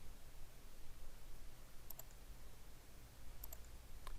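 Jewelry CAD modeling software gets worked with two small, crisp clicks of a computer mouse, set apart by about a second and a half against a quiet, hissy room background.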